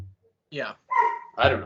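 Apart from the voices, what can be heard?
dog barking upstairs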